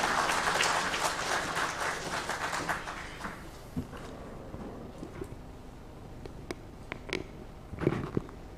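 Audience applause at an investors awareness meet in a hotel hall in Imphal, loud dense clapping for about three seconds, then thinning to scattered claps and a few final bursts before quiet.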